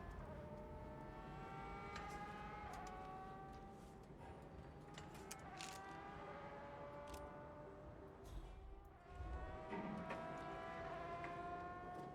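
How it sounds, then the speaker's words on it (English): Race car engines in a video game whine steadily throughout, their pitch climbing and dropping as they rev and shift, with a brief dip near the end. "let me know if the sound of the race cars gets to be"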